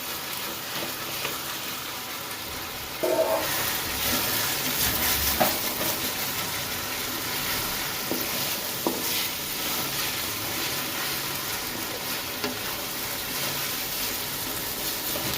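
Potatoes frying in a pan for farali sabudana khichdi, with a continuous loud hiss of sizzling oil and occasional soft stirring knocks throughout, no speech.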